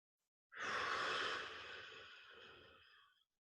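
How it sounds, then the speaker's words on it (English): One deep, audible exhale: a close, breathy whoosh that starts abruptly, swells, then slowly fades over about three seconds against silence. "take 2 deep cleansing breaths, very deep. And as you do it, make an audible exhale."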